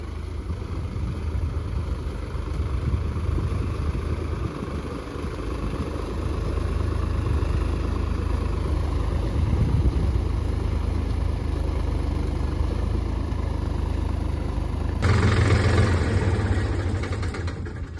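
Model 3630 tractor engine idling in a muddy field, a steady low rumble close by that holds throughout and briefly swells louder near the end.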